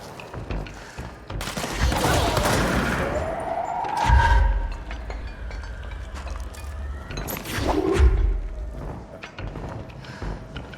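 A shotgun firing in the video game Control: a few heavy blasts spaced several seconds apart, with clattering combat noise and debris in between.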